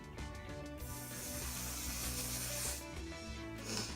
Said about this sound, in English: So I'm about to spray my face with hairspray.